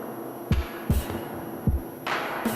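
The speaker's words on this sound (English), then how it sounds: "So I added just a kick drum" A deep, distorted drum machine kick drum thumps four times at an uneven pace over a steady low hum.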